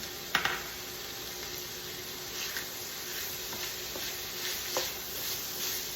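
Diced onion and jalapeño pepper sizzle in a pan for sloppy joes, a soft constant hiss broken by a few light clicks of stirring, with no voices.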